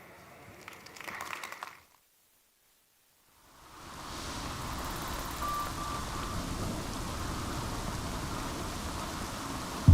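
A storm builds into steady, heavy rain with a low rumbling wash as a hurricane approaches, following a brief muffled sound and a short silence, then holding at a dense, even roar.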